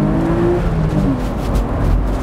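A Porsche Boxster pulls away hard in first gear from about ten miles an hour on a cold, wet morning, its engine note loud and close, steady and rising without a break.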